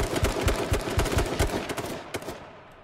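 Rapid automatic gunfire in a video game, a close, loud burst of evenly spaced shots that slows into a few scattered rounds and then fades out.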